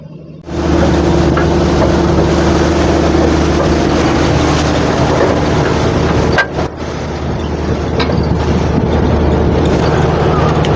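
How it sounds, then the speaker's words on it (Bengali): A large passenger launch approaches on the Padma river at Chandpur, with its engine making a loud, steady, low droning rumble. The drone holds from start to finish, broken only by a brief bump partway through. "লঞ্চ আসছে।"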